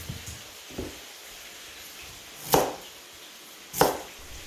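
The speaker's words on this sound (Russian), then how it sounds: "Carrots are also cut into large pieces." A knife chops carrots into large pieces for Kyrgyz pilaf, with a few spaced, sharp cuts landing on a board against a quiet background.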